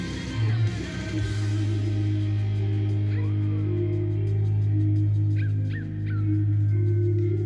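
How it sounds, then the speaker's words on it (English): A whimpering, dog-like crying sound woven into a track, rising over a steady, sustained musical backdrop with a few short high squeals near the end. "that sound of like a dog crying, like it's gonna make me cry"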